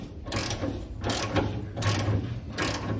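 A ratchet loosening bolts on a car's shifter and e-brake assembly clicks out in close, loud bursts, four rhythmic back-and-forth cranking passes with no talking.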